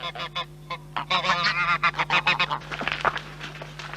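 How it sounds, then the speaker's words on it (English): A flock of geese in rural Ireland honking repeatedly in quick bursts, loud and close, calls overlapping against a low steady hum. "Fine flocks of geese and a pet of a gander feeding out of a pot are rare sights"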